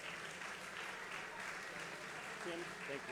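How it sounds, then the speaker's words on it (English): An audience at a Formula SAE awards ceremony applauds a sponsor's representative, a steady wash of clapping that is faint and distant, with voices under it. "Let's give Tim Meyer a nice round of applause."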